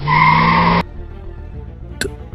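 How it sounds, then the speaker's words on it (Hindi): Motorbike brakes screech loudly in a sustained, steady squeal for under a second in an animated horror story, then cut off into quiet background with a faint brief thud afterward. "उसने जोर से अपनी बाइक के ब्रेक लगाए।"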